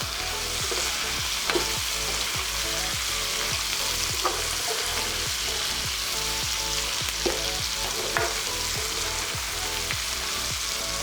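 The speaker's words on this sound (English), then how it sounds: "Adding in fresh prawns." Fresh prawns stir-fry in a pan with curry leaves and chili, a loud continuous sizzle broken by regular scraping strokes of a spatula, close and without talk.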